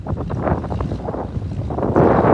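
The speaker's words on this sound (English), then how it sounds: "Windy." Strong wind gusts across an open farm field and buffets the microphone, a loud rumbling roar that swells toward the end, with no talk.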